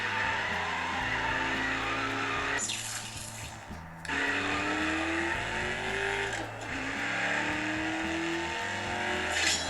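Racing game car engines play through an NUU A25 Android 13 smartphone, droning and revving up and down in pitch, close and fairly loud, with a short dip midway.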